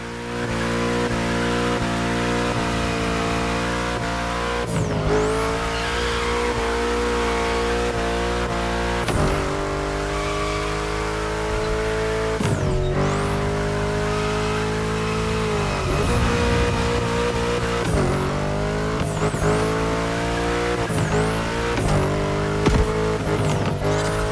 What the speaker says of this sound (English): release the throttle, turn the steering wheel to change course, and hit the throttle again